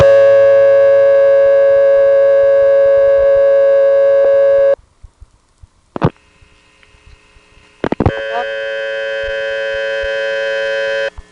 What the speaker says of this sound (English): let's dial it normally so the tone will sound and she'll know we're at a payphone